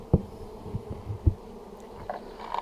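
Honey bees buzzing around hive frames left outdoors, faint scattered buzzing with a few louder passes close by, no talking.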